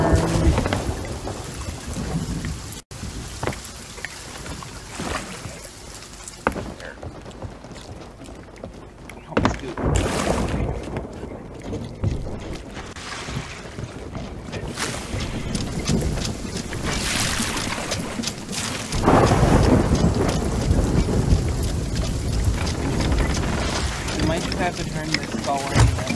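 Thunderstorm at sea aboard a boat in the video game Sea of Thieves: rolling thunder booms and rushing wind and rain over sloshing waves, with loud surges near the middle and end and a voice talking at times.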